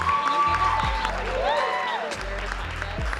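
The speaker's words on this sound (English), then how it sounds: "one more round of applause for our beautiful women up here" An audience applauds women on a stage at a business panel event, a continuous wash of clapping and crowd noise that stays steady throughout, with a voice and some tonal sounds over it.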